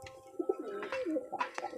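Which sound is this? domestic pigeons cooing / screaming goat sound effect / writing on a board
domestic pigeons cooing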